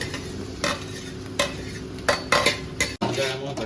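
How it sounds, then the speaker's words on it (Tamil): Half a kilo of chopped tomatoes goes into frying onions in a pan, with a soft sizzle under scraping stirs and spoon clanks against the metal, several distinct strokes close up and no talk. "1/2 கிலோ வெட்டி வச்ச தக்காளியை ஆட் பண்ணுறோம்."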